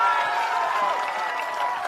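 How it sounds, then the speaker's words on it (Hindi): A crowd at a political rally in Bihar applauds in a brief, dense burst of clapping and cheering, with a voice carrying over it. "अब जिसको जिसको ताली बजाना है बजा लो।"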